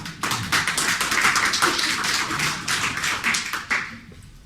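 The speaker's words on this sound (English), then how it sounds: "So just give yourself a round of applause real quick." An audience gives a round of applause, a dense, even patter of many hands clapping for several seconds before thinning near the end, with no voices.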